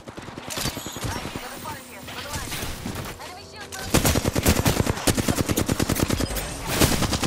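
Video game gunfire crackles in rapid automatic bursts, with a denser, louder stretch of fast repeated shots in the second half, set against a busy game soundscape.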